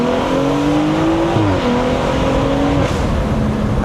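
A 500-horsepower BMW 340 driven on Maine roads, its engine droning loudly from inside the cabin with intake and exhaust rising in pitch through the revs, dipping at a gear change, then climbing again.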